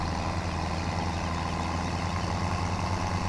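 A John Deere tractor engine in the Farming Simulator 2017 farm game, pulling a square baler for bale wrapping, drones as a steady, heavy low idle-like rumble, constant and fairly close throughout with no talk.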